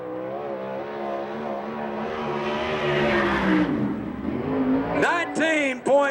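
A sprint car with an Edison chassis and Downing engine races at Manzanita Speedway, its engine droning steadily as it rises and falls, mixed with the crowd and track ambience, then sharp high revving bursts close by near the end.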